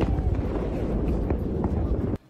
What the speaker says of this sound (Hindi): धमाका हुआ।